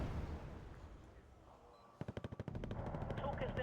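Gepard anti-aircraft gun in a video game fires a rapid burst of about eight sharp, loud cracks, followed by sustained rumbling battle noise.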